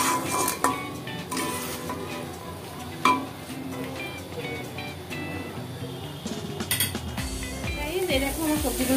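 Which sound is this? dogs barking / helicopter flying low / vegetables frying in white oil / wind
vegetables frying in white oil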